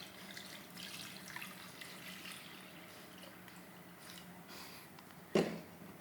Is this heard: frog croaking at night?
no